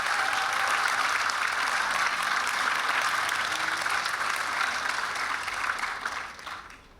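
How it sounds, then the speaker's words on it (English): An audience claps steadily at the grand opening of an amphitheater, a dense, even wash of applause that holds for several seconds before thinning out and fading at the end. "So, yes, continue that applause, will you please?"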